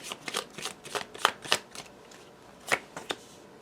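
Tarot cards being shuffled and drawn for a reading, a run of crisp, close riffling snaps in irregular bursts with short pauses between them.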